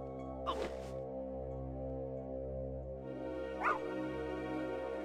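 Two short dog barks from a companion dog in the video game Fallout 1, sounding over a steady droning game background, one near the start and another a few seconds later.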